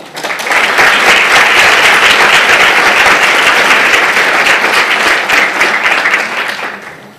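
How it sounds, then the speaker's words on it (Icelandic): Audience applause at a meeting as Iceland's social affairs and children's minister Ásmundur Einar Daðason is welcomed to the stage, a loud, sustained roar of many hands that swells quickly, holds for several seconds, then tapers off. "Gefum honum gott klapp"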